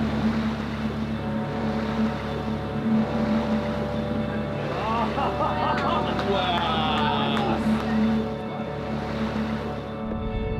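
A boat races across open water toward a surf break, its engine droning steadily with rushing water and wind noise throughout, close and loud, with no talk.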